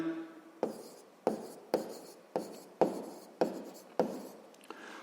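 Pen strokes on paper while writing down a math answer: seven or eight distinct scratchy strokes in an even rhythm, close and fairly quiet, with no talking.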